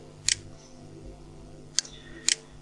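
Three sharp, quiet mouse clicks in a photo editor, one early and then a close pair near the end, each a crisp isolated tick over faint background hum.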